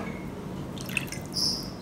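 A quarter cup of water is poured onto bite-sized chicken thigh pieces for a Singapore Chinese-style butter chicken marinade, giving a short, faint splash and drip in a quiet kitchen.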